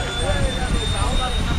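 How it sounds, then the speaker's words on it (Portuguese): Skydiving airplane engine running on the ground before a jump: a loud, steady, continuous engine drone with a constant high whine, close by and unchanging throughout. "Nosso avião ligado, Bárbara, vamos lá?"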